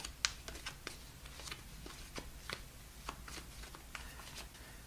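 Quick crisp riffling and soft card taps repeat steadily over a faint background hum, close by and fairly quiet, with no voices.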